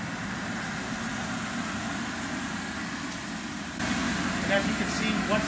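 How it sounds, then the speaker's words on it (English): A negative air machine runs inside a plastic-sheeted containment, a steady close mechanical drone that swells a bit louder partway through, with no speech over it. "once the negative air machine is running, it pulls against the poly"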